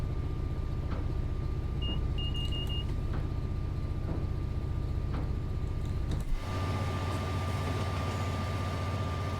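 A Class 66 diesel locomotive of about 4,000 horsepower runs through snow on the Doncaster to Peterborough line in Train Sim World 4. It gives a steady, loud low engine drone with faint rail clicks, and the tone shifts deeper partway through.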